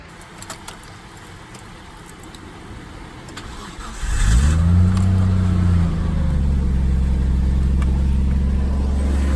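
A Nissan Cefiro with an RB20DET engine, just jump-started after a dead battery, cranks with a jingle of keys, catches around midway and rises into a loud, close rev before settling into a steady idle.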